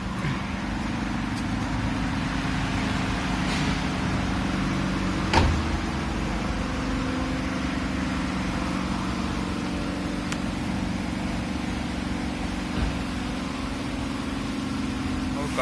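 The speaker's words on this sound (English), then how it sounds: "Let's just park the car over here" A parked car's engine idles steadily in a car wash bay in Musaffah, Abu Dhabi, a low continuous hum with a couple of faint knocks and thuds around it.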